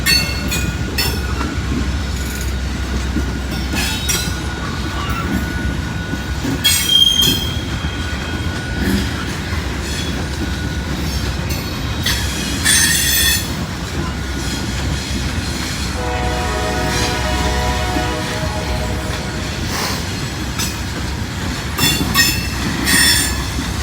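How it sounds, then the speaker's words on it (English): Loaded grain freight train rolling past on the tracks: a continuous heavy rumble of wagons with repeated high metallic wheel squeals, a stretch of rhythmic clatter and brief horn-like tones, close and loud throughout. "Now the question is Timmy going to be on this grain train"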